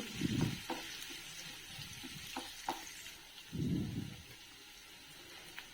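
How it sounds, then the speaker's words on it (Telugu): Cumin seeds and finely chopped onions frying in hot oil make a soft, steady sizzle, with two louder bursts of stirring and scraping in the pan. "ఆయిల్లో జీలకర్ర వేస్తున్నాను అదేవిధంగా సన్నగా తరుక్కున్న ఉల్లిపాయ ముక్కలు కూడా వేస్తున్నాను ఇవి వేగుతున్నాయండి"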